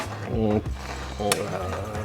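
A spoon scrapes and clinks against a cauldron of borscht while someone talks, with a light sizzle of cooking underneath.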